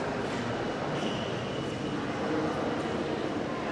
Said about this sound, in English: This is Porto's São Bento train station.